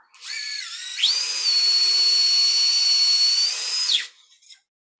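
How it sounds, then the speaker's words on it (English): A power drill whirs up to a high steady whine, holds it for about three seconds, then winds down and stops, drilling over a wire. "I'm going to drill over this wire."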